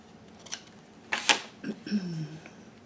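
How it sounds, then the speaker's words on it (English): Scissors trimming Kraft sticky paper during a collage craft: a few faint, quiet snips and papery rustles scattered over a few seconds in a calm room. "I'm just gonna trim this down just a little bit more."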